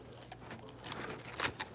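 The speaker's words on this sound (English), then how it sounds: "first find the keys" A small bunch of keys jangles briefly and faintly, a few light metallic rattles and clinks during a short search, with low background noise and no talking.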